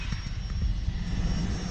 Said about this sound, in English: I'm gonna try to record airplanes taking off from Teterboro Airport.